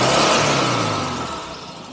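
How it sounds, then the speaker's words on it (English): A Volkswagen engine, heard during an idle check on a test drive, roars loudly up close in a brief rev and then steadily winds down toward a settled idle. "we can give the engine a rev now"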